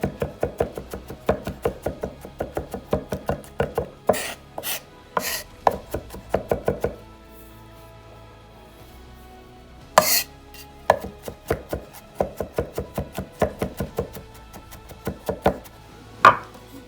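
A knife finely minces vegetables on a cutting board, making rapid rhythmic chopping taps in bursts. A few sharper knocks stand out, and one quiet pause falls midway. The knife is close and fairly loud, with no talking.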